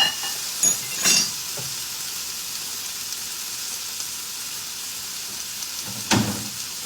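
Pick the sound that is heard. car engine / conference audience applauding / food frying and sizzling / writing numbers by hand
food frying and sizzling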